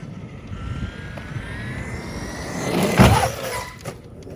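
A Traxxas Maxx RC car drives after a repair, its electric motor whining and rising in pitch with a louder surge near the end, close and without talk.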